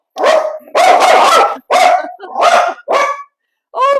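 A dog inside a vintage high-street shop in the Cotswolds barks loudly and close up in five sharp bursts, the last one higher and more yelping, with short pauses between.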